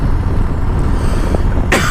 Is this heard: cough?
yes